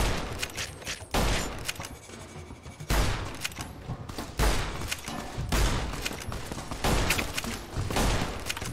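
Repeated gunfire bursts from a gun in the Fallout New Vegas video game, several loud shots spaced about every one to one and a half seconds over a continuous busy game background.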